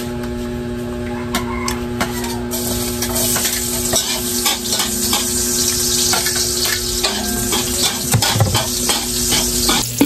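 Carrots and other vegetables sautéing in a pan, a steady close sizzle with scraping stirs throughout, no talking.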